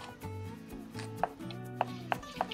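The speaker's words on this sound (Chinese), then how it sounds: "把葱叶切成段。" A knife chops scallion greens into segments on a cutting board. Four sharp, close taps land at uneven intervals over a steady background of music.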